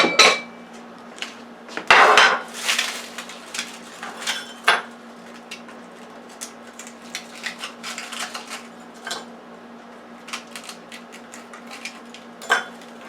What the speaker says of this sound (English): So I'm going to pop it out and put it in a bowl to show you.